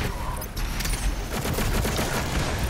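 Rapid gunfire and explosive blasts from the shooter game Doom Eternal, a loud continuous barrage with little let-up and no clear talk.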